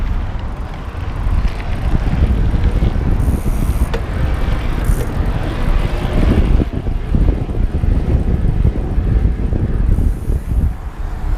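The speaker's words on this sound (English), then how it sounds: "So I might shift through some gears too in a second here." A CUBE Reaction Hybrid e-bike rides along with steady chain and drivetrain whir, wind rumble and occasional clicks of the derailleur shifting through gears.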